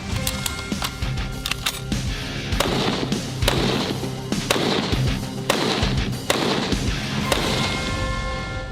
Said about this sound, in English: We'll shoot approximately 5 or even 10 shots in a row